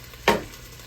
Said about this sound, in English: Put some water in here.